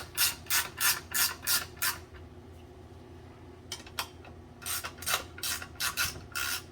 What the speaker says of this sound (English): it says you're supposed to tighten these to 90 foot-pounds